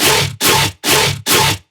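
Mono layer of a heavily distorted bass sample, four loud, gritty, noise-saturated hits in a steady rhythm, each about a third of a second long with brief gaps between.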